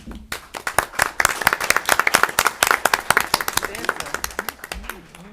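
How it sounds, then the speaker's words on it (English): A small audience at a North College Hill candidates forum breaks into brisk, crackling applause that swells, then thins out, with a voice talking briefly near the end. "Let's give her a round of applause, guys."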